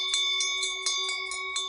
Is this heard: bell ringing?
yes